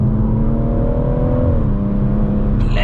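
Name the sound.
440bhp BMW M140i Shadow Edition accelerating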